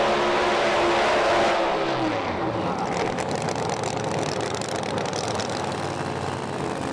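A Pro Mod drag racing car engine roars loudly at a British drag strip, dropping in pitch as it revs down, then settling into a rough, heavy idle rumble.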